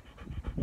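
A seven-year-old dog pants while resting behind a vlogger at a horse yard, a short run of quick, soft, close breaths with no talking.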